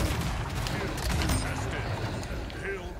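Gunfire in the video game Splitgate comes as dense, continuous bursts of rapid shots and impacts, loud and crowded, with a layered game soundscape throughout.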